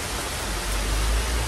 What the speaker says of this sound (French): Oh là là, il pleut.